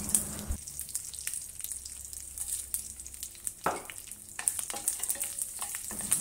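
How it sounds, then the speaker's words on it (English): Curry leaves and dried chilies hit hot oil already spiced with cumin seeds, giving a loud initial spit, then a steady crackling sizzle with sharp pops throughout. "Add the curry leaves, then followed by the dried chilies."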